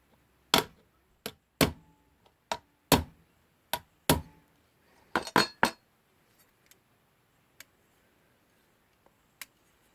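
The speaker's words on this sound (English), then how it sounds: "So I'll just move over to the hammering zone again." Light metal tapping on a Salmon Mauthe alarm clock movement part during reassembly, about a dozen sharp clinks in an irregular rhythm, close and clear, fading to sparse faint ticks.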